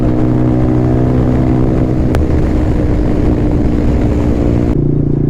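Yamaha R15 V4 motorcycle on the move, giving a steady loud engine drone with strong wind rush throughout, then easing off near the end, with no talk.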